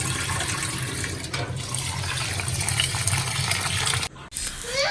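Rice is washed in water, with continuous close sloshing and rushing water that stops briefly near the end before faint splashing resumes.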